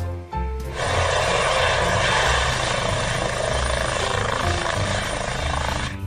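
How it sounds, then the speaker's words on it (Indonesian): A red toy helicopter switches on with a short click, then a continuous whirring, buzzing motor drone that stays loud and steady up close. "Wow, ada helikopter warna merah."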